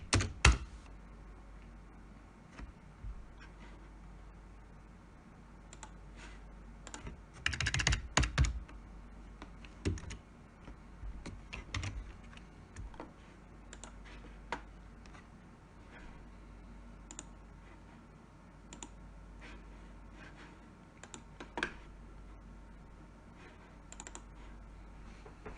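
Quiet, sparse keystrokes on a computer keyboard as a password is entered, scattered soft clicks with a brief flurry of louder taps near the start and a few seconds in.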